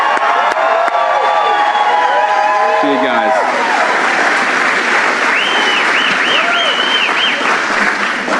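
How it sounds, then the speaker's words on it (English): Loud, sustained applause fills a political event hall where the U.S. vice president speaks in Maine, with cheering and whoops rising above the clapping and a voice speaking briefly. "So let's give a round of applause"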